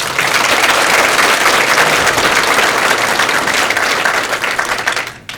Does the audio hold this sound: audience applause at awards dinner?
yes